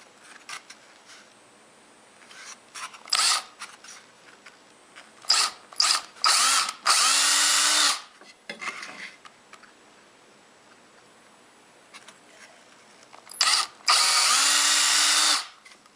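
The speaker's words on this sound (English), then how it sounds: "To drill the holes, I'm going to use a 1/8 inch drill bit in my cordless drill." Cordless drill fitted with a 1/8 inch bit boring holes while installing a woodworking vise: several loud, close whirring bursts of a few seconds each, separated by quieter gaps with small clicks and handling noises.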